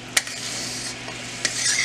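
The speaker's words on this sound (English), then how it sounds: "I put a very little water and now it just started boiling." A small amount of sugar syrup with water, cooking for chickpea fudge, starts to boil in a pan, giving a soft continuous bubbling hiss with a few sharper pops and a louder surge near the end.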